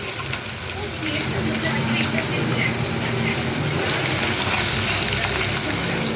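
Onions dropped into hot oil in a home kitchen for cooking, a loud, dense sizzle that swells and holds steady throughout, close up, with a voice talking briefly.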